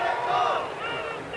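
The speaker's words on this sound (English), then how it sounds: "And this crowd is lit." A stadium crowd roars and cheers after a score at an AUDL playoff ultimate frisbee game, Pittsburgh Thunderbirds at Madison Radicals, a loud, broad burst of shouting that eases slightly toward the end.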